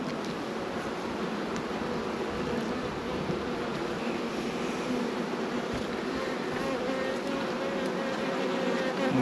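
Honey bees buzz around an open Langstroth nuc hive, a dense, steady hum of many bees close by that carries on without a break.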